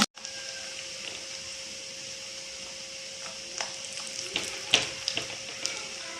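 Coconut pieces frying in a pan as cashews are dropped in for payasam, a soft continuous sizzle with a steady hum and a few sharper clicks and stirring knocks toward the end.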